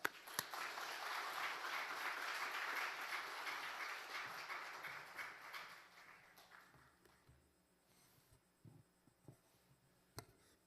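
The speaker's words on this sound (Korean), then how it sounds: "우리 나오실 때 큰 박수로 환영하겠습니다" A church congregation at Sunday worship claps to welcome the pastor, fairly soft and distant; the applause holds for several seconds, then thins out and fades into scattered footsteps and small knocks.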